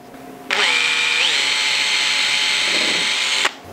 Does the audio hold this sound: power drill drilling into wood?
yes